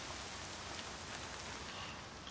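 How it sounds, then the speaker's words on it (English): Steady rain in the video game Horizon Zero Dawn, a dense, even hiss of falling drops that fills the whole moment without letup, with no talk over it. "I really want to get out of this rain."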